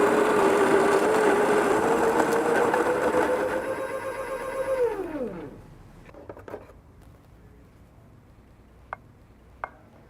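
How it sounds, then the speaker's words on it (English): A coffee grinder grinds beans to a medium coarse grind with a loud, steady whirring drone that winds down as the motor stops, followed by a few faint clicks and taps. "we're going to grind this. It's going to be a medium coarse grind, like a Chemex."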